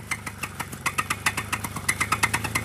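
A paramotor engine revs on the throttle, a close, buzzing mid-pitched drone pulsing in quick, uneven surges for a few seconds with no voices.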